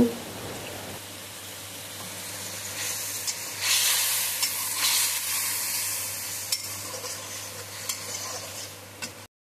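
Masala paste and eggplant sizzling as they fry together in a pan, a loud steady close hiss beginning after a second, with occasional scrapes of stirring.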